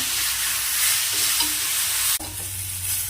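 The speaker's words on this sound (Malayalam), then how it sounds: "ഈ വെച്ചിരിക്കുന്ന കൂട്ട് ഇതിലേക്ക് ഇടുക നമുക്ക് മിക്സ് ചെയ്യുക" A spoon scrapes and stirs a spice mixture into erissery in a hot pan, with a steady sizzle of frying beneath it, close and fairly loud, and a brief clatter partway through before the frying continues.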